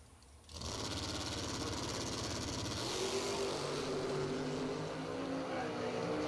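A Corvette Roadster launches down a drag strip at a Fuel Tech $50K race, a loud sustained engine roar rising abruptly after a brief quiet start and holding steady to the end, with other engine noise layered in.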